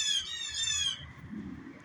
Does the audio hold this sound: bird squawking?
yes